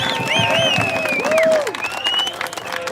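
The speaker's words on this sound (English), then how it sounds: "Please welcome her with a warm word of applause." A crowd at a protest rally applauds with clapping, cheers and a few shrill whistles, loud and steady, easing off toward the end.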